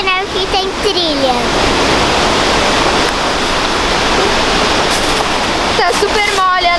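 A waterfall near Pucón, Chile, on a snowy trail, roars as a constant, loud broadband rush, with people talking over it at the start and again near the end.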